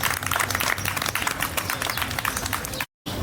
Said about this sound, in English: give up a round of applause for Angelica